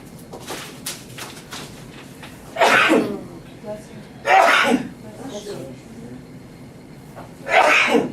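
A few loud sneezes spaced apart during a county commissioners' meeting, with faint murmuring voices and small background noises between them.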